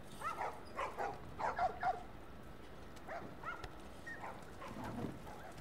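A dog in The Last of Us Part II barks several times in quick succession at moderate distance, then gives a few softer yips and whimpers over faint rain-like background noise.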